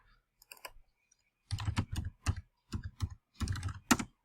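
Keys on a computer keyboard clatter in quick irregular bursts, a few light taps first and then several dense runs of typing, close and clear with no talk.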